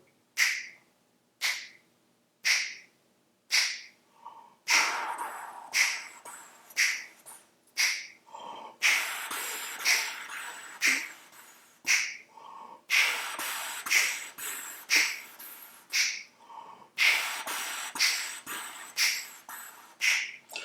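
Close, audible breaths drawn in again and again by a trumpet player, short sharp inhalations in an irregular rhythm, some quick and clustered, others spaced apart.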